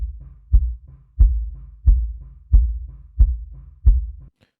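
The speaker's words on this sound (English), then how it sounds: "And then our sub kick sounds like this." A kick drum captured by a sub kick microphone, six deep, booming thumps at a steady pace with a faint click on top and light bleed from other drums in between.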